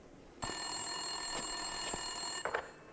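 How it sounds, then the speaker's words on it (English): An office telephone rings in Max Payne 2, one sustained electronic bell tone lasting about two seconds, heard alone and fairly faint with a small knock near its end. "Winterson's phone was ringing."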